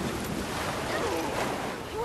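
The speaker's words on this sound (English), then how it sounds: "Oh, it's water." Rushing water surges steadily through a scene in the video game Resident Evil 6, a continuous broad wash of noise filling the whole moment with no clear breaks.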